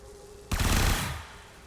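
A single sharp burst of video game gunfire cracks out and decays within about half a second, alone over faint background hum.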